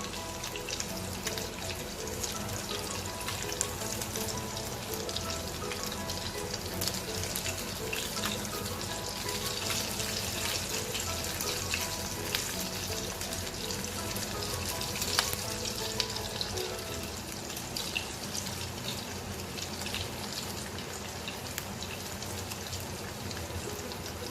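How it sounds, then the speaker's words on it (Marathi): Kothimbir vadi, coriander fritters, fry in oil over a low flame, giving a steady, even crackle and fizz that holds without a break from start to end. "थोडं मंद आचेवर तळू आपण म्हणजे छान की होतील एकदम बारीक गॅस ठेवायचा"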